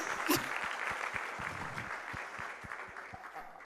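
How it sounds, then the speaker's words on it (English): Applause from a quiz audience for the Karnataka team after a narrowly lost semi-final at a national financial literacy finale in Mumbai, a moderate, fairly even clatter of clapping that fades slightly toward the end. "I think they deserve another applause."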